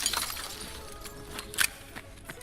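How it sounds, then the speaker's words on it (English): A glass window smashed in the video game Escape From Tarkov: faint crunching shatter and scattered tinkling shards over quiet game ambience. "Take the glass out."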